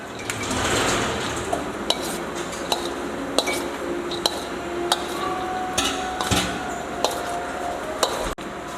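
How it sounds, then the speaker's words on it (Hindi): Spiced bottle gourd and ridge gourd mixed by spoon in a metal bowl, a steady scraping bed broken by regular sharp clinks of the utensil against the rim, close and fairly loud, no voices. "हाथों की मदद से या चम्मच की मदद से इन्हें अच्छे तरीके से मिक्स कर लेना है।"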